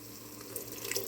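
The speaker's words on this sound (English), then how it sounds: "I'm going to go ahead and put a tablespoon of white distilled vinegar." A tablespoon of white distilled vinegar pours into a seafood gumbo pot, a brief, soft, close trickling splash with no talking.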